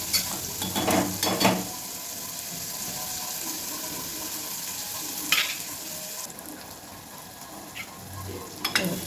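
Onions and curry leaves sauté in sesame oil, giving a steady close sizzle and frying crackle with occasional scrapes of stirring throughout.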